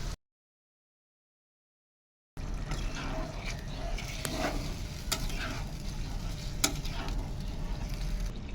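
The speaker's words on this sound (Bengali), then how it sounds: "প্রেসারে সিটি মারা মাংস আর আলুটা এবার এতে ঢেলে দিচ্ছি" Pressure-cooked meat and potatoes tip into a hot pot for biryani after a brief silence, setting off steady sizzling with scattered sharp clinks and scrapes close by.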